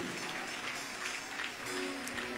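A church congregation applauding during a French-language worship service, with steady dense clapping throughout at moderate, fairly even volume.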